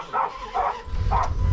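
A small dog barks outdoors on a cold, windy morning, three short yapping barks spaced apart at moderate distance, with wind rumbling underneath.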